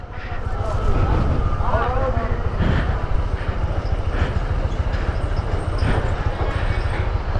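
A touring motorbike rides off-road on the road to Sajek, its steady low engine rumble mixed with heavy wind buffeting and rattling from the rough ground throughout.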